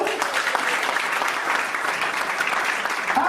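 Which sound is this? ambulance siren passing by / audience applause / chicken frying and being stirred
audience applause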